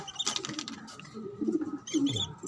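Pigeons coo in low, throaty bursts while feeding, with a few soft chirps mixed in; the calls are close and steady, and no one speaks.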